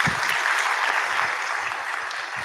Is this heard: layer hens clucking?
no